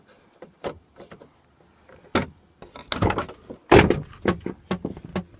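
A vehicle door lock, worked with a spare key, gives a series of sharp mechanical clicks and clunks, several close, brief knocks spread unevenly, with a louder cluster of clatter near the end.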